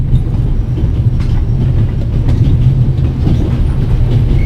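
A video game train rumbles steadily along the rails in the Alps with a dense, low roar and faint clattering, continuous and close throughout.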